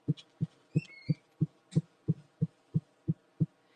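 Eleven or so evenly spaced, dull low thumps of stretched well-made t-shirt fabric, steady and close, with a few faint higher squeaks near the start.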